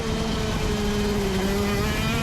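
Euro shifter karts racing at South Garda, their small engines screaming loud and close in a constant high-revving drone with a slight pitch drift, no talking over it.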